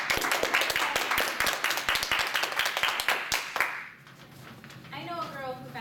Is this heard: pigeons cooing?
no